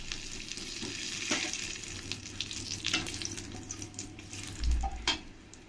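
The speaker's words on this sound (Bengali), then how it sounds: "এবার এই তেলের মধ্যে আমি কটা কালো জিরে দিয়ে দেব তিনটে শুকনো লঙ্কা দিয়ে দেব আর দুটো তেজপাতা দিয়ে দেবো" Nigella seeds, three dried red chillies and two bay leaves crackle and sizzle in hot oil left from frying katla fish. A steady close frying hiss runs throughout, with a few sharper pops and the clink of a utensil.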